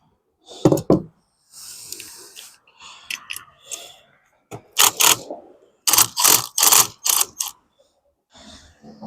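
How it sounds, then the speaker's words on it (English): A tool unscrews the spark plug from a Racer Proquip 236cc small engine, producing a run of sharp, close metallic clicks and knocks in short irregular bursts separated by quiet gaps. "Let's get this spark plug out."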